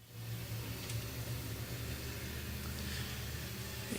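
Modified race cars accelerate at a Willamette Speedway restart as a steady, distant roar of several engines, a continuous rumbling drone with no break.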